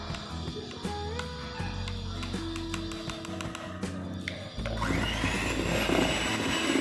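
An electric beater whirs steadily at speed 1 while mixing cake batter, a continuous motor drone with shifting tones that grows louder and fuller partway through; no talk.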